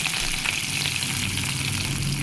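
Garlic, fresh ginger and coriander frying in a pan for a masala puri preparation, a steady, close hiss of sizzling oil running unbroken throughout with no voices.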